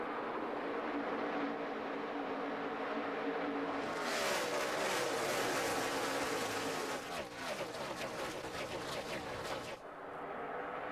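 A field of NASCAR stock cars at Chicagoland Speedway roars back up to speed on a restart during the 2012 GEICO 400, a dense engine drone swelling into a loud, buzzing wall of revving cars that sweeps past nearby.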